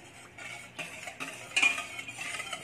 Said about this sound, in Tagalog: Haluin ang haluin hanggang sa matunaw ang mga ingredients